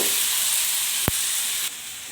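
Continuous sizzle of tomatoes frying in a hot pan with a single sharp tap midway, the hiss dropping slightly in level near the end.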